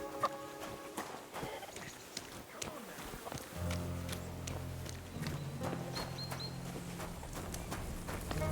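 Horse hooves clop at a walk in the medieval video game Kingdom Come Deliverance 2, soft irregular hoofbeats mixed with ambient game sounds and a low droning hum, fairly quiet overall.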